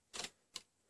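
Two key presses on a computer keyboard, Alt and F12, come as a pair of quick, faint clicks about a third of a second apart in an otherwise quiet room.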